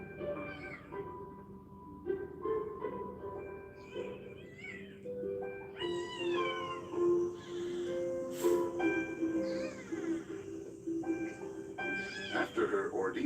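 A tiny two-ounce kitten meowing repeatedly in thin, high rising cries, close and moderately quiet, mixed with a narrator's voice and soft background music.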